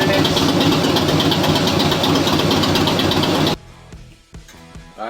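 A 2017 Harley-Davidson Heritage motorcycle engine idles with a loud, steady, even rumble for about three and a half seconds, then cuts out abruptly, leaving only faint scattered clicks and thumps.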